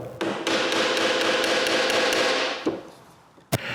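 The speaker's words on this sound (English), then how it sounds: "Using a small chisel, I remove some wood around the screw, so I can take the pliers and remove it." Small chisel cutting wood away around a broken screw in a bathroom vanity: a sustained scraping rasp broken by light taps, followed by a couple of sharp knocks near the end.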